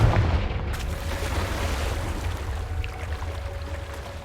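A Confringo blasting spell fires in Hogwarts Legacy with a loud opening boom that rolls into a sustained rumbling roar, fading slowly, no talking.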